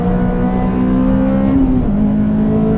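Honda Civic FD2 Type R engine droning loud and steady at high revs while cornering on the Nürburgring, with a brief pitch dip as the car tripods through a bend and tires hiss underneath.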